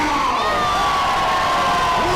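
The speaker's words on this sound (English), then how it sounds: "Listen to this raucous capacity crowd here in Jacksonville." A raucous capacity crowd at a heavyweight fight event in Jacksonville cheers and shouts steadily, a dense, loud wall of voices and whoops sustained throughout with no pause.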